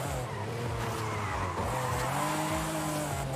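A Ferrari 512 TR in Forza Horizon 5 slides through a corner, its engine note rising and falling while the tires squeal continuously and loudly throughout.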